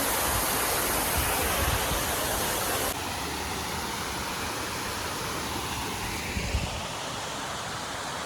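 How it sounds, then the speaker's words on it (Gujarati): A waterfall by a Shiva temple on a hill, a loud steady roar of falling water that drops slightly in level partway through and carries on unbroken. "એ ઝરણું મસ્ત છે"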